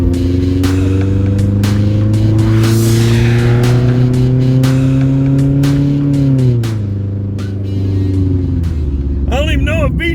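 A cheap, worn Honda Civic's exhaust drones loudly as the engine pulls hard under acceleration, its pitch climbing steadily and then dropping as it shifts. Someone talks over it.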